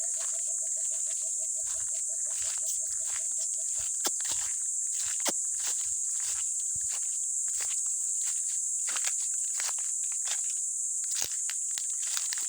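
Footsteps walking along a road, a steady run of soft, close treads over a constant high-pitched insect drone, with a few sharper scuffs and no talking.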